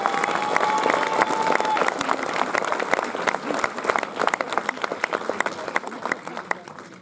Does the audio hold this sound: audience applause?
yes